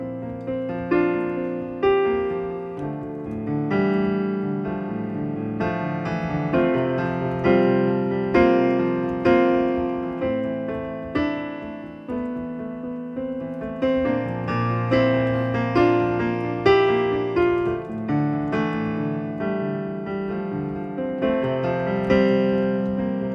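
A solo piano plays the bridge section of a song, a flowing, melodic passage with sustained chords and gentle rising phrases, close and clear, with no voices.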